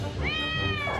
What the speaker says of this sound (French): Regarde mon chat.